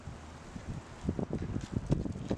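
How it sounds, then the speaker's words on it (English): Strong wind gusts outdoors on a very windy day, buffeting the microphone with rough, uneven low rumbles that swell and fade in quick bursts over a steady hiss. "this wind is ridiculous"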